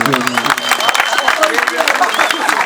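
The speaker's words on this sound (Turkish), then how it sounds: "Askerlerimiz şöyle bir canlı bir şekilde alkış istiyoruz." Lively applause for departing soldiers at a village send-off henna celebration in Yakupabdal, dense clapping mixed with crowd noise and voices throughout.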